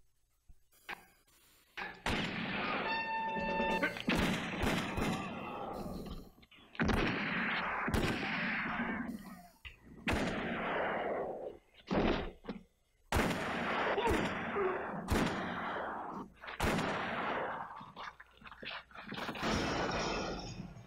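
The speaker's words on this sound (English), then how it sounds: "this era is when the sound of the Hollywood gun was first truly defined. So if you take a listen to this." Classic Hollywood movie gunshot effects ring out as loud, booming bursts in rapid succession, some shots tailing into long echoing reverb, with brief pauses between volleys.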